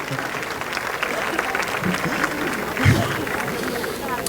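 An audience claps at the CVMA 2025 awards ceremony, a steady wash of applause with crowd murmur beneath and a brief louder swell near the end.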